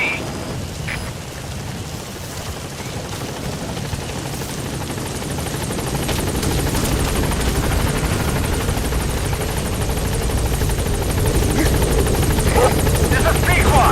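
B-Quad support helicopter in MGSV flying in toward the landing zone, its steady rotor drone swelling louder over about fourteen seconds, mixed with rainy ambience and game radio voices.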